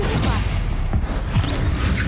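Confringo blasting-spell explosions in Hogwarts Legacy, dense and booming with scattered thumps and crackling impacts over a continuous loud wash of combat noise.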